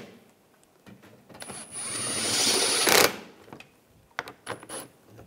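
Screws being tightened on a 2.4-litre four-cylinder engine of a 2013-2016 Dodge Dart, with a sustained buzzing tool run of about two seconds followed by a few short clicks and taps, close by.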